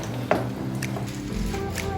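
Lasagna filling mixture being stirred with two spoons, soft wet squishing and a brief tap against the bowl, close and fairly quiet.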